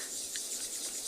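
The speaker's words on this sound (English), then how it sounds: "all the insects, all the cicadas, all the sorts of things going crazy" Cicadas and other insects call during a sunrise safari drive at Tswalu, forming a steady, dense high-pitched buzz that holds at an even, moderately faint level throughout, with no voices.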